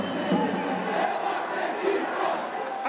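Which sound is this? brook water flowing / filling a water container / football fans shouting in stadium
football fans shouting in stadium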